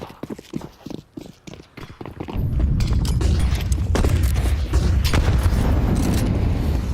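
Grenade blasts and gunfire from a professional Counter-Strike match: sharp scattered clicks and taps first, then a loud blast swells into a dense, sustained roar of explosive noise.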